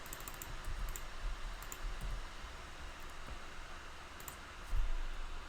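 Quiet, irregular clicks of typing on a computer keyboard over a soft noise floor, with a slightly louder burst of keystrokes near the end.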